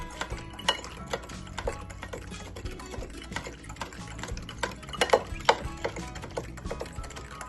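Sugar is stirred into a passion fruit cremas mixture, giving a run of light clicking and scraping taps from a utensil against the bowl in an uneven rhythm, close and fairly quiet.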